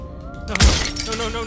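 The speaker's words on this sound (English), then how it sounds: "at the sound of breaking glass" Glass shatters in the video game Slay the Princess, a single loud crash that bursts out and then rings off briefly over a low musical backdrop.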